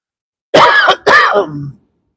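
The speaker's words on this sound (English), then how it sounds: "See, I got the old horse cough." A horse gives two harsh, loud coughs close by, one right after the other, then quiet.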